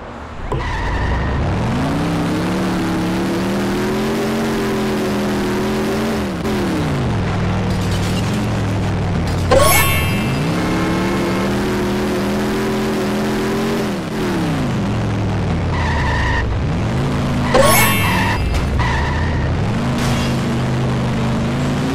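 Car engine in The Simpsons Hit & Run game, revving up and down through repeated gear shifts with rising and falling pitch, loud and close, broken by a couple of sharp skid-like squeals.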